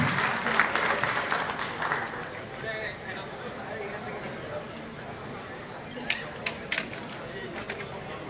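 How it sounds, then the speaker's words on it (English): An audience claps at the opening of the Bangladesh Investment Summit 2025 in Dhaka; the applause starts full, then thins, with a few sharp claps near the end and voices under it. "A big round of applause for all of them"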